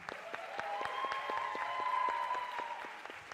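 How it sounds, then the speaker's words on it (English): Audience clapping at a championship event for the competing teams, sparse and distinct claps heard from some distance, with a faint tonal hum running underneath. "let's give them all a round of applause"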